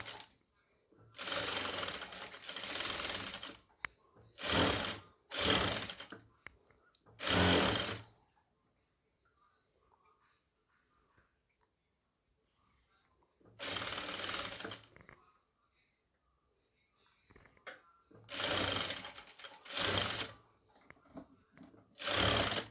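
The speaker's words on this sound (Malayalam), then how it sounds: "ഒരേ അളവിലായിട്ടൊന്ന് ഒന്ന് സ്റ്റിച്ച് ചെയ്ത് കൊണ്ടുവരാം കേട്ടോ" A sewing machine stitching a pleated round-yoke nighty runs in repeated loud bursts of whirring stitching, some long and some short, with quiet pauses between them.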